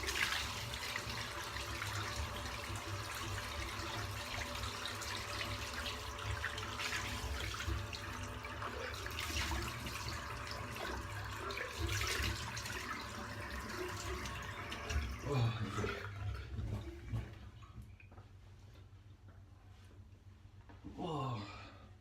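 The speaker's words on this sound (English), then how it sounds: "Hot water." Hot water runs from a tap during a head shave, a steady rushing flow lasting around fifteen seconds that then cuts off, followed by faint splashing and handling sounds.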